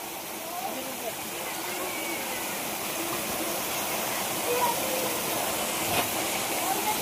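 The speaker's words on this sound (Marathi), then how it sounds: "वरून कसं पाऊस पाणी पडतोय. छोटे छोटे धबधबे आहेत." Small waterfalls and rainwater rushing through a forest after heavy rain, a steady close broadband roar that continues without a break.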